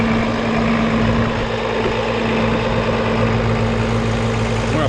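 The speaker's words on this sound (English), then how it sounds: "Tractor's as warmed up as it's gonna get." A warmed-up tractor engine idling close by on dyno day, a loud, steady diesel rumble with an even hum and no pauses.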